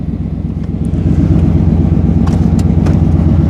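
A Chevy small block V8 in a rare Chevy Centurion, fired up after sitting on a weak battery, idles loud and close with a steady, throbbing low rumble that swells slightly after the first second and holds evenly, no talk.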